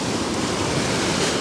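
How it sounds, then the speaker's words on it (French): Sea swell and breaking white water along the seashore, a steady broadband wash of surf with some wind, fairly loud and unbroken for its short length. "De la houle. Une eau blanche."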